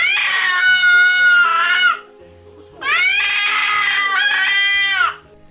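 A cat cries in two long, loud, strained yowls, each lasting about two seconds with a short pause between, close to the listener and clearly in the foreground.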